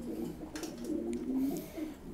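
Seven-star pigeon cooing, a male bird in a loft, with a low, soft, steady coo repeating close by and no talk.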